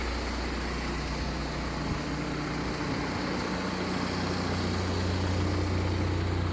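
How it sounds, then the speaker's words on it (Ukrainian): A 2020 Renault Trafic van engine idles quietly and steadily, a low continuous rumble with no voices. "Мотор працює тихенько"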